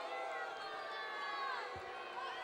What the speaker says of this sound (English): Crowd voicing their displeasure.